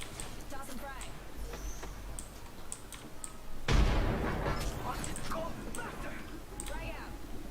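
A frag grenade blast in the shooter Apex Legends bursts midway through scattered clicking and tapping, loud and brief with a rumbling tail, while a voice speaks throughout.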